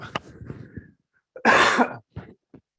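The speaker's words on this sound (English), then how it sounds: "I cough." A single harsh cough bursts out close by, framed by a few short breathy throat sounds and brief silences.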